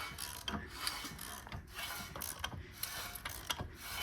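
Rusty 24-valve VR6 engine turned over by hand during a teardown, a grinding, ratcheting mechanical rasp with irregular clicks and scrapes, close and steady.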